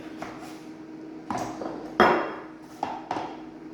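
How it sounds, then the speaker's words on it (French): A knife halves lemons on a board, making several short taps and thuds close by, with one firmer chop in the middle and a few lighter clicks around it. "On va venir presser les citrons. Donc, on va couper les citrons en 2."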